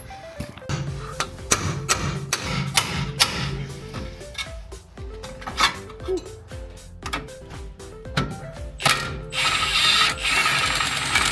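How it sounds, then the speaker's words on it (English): A ratchet wrench works loose the outer tie rod on a BMW E30 being fitted with a Z3 steering rack, giving repeated close clicking bursts of pawl ticks with brief pauses between strokes, loud and alone. "we're gonna get the outer tie rod unbolted"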